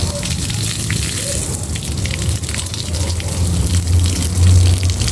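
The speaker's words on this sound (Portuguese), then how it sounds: "Vou botar água nela também." Water is poured onto a jabuticaba tree in a backyard garden, giving a steady, close splashing gush that runs continuously throughout.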